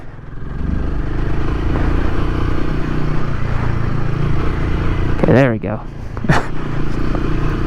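A 2024 Royal Enfield Himalayan motorcycle, a pre-production bike running rough, its engine held at steady raised revs with a continuous loud drone, a brief blip and clatter near the end and someone speaking briefly over it.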